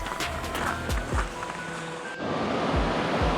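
Rushing creek water along the Virginia Creeper Trail, a steady broadband wash with gusts of wind and occasional low thumps, close and continuous throughout.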